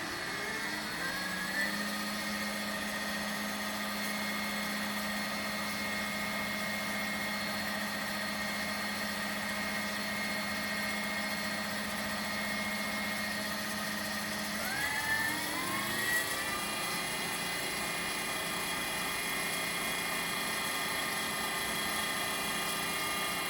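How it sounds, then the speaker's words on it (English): A hydraulic fluid pump on a LESU Kobelco SK500 model excavator runs with a steady, close whine and hum, shifting pitch briefly around the middle before settling back into its constant drone. "I'll turn on the pump."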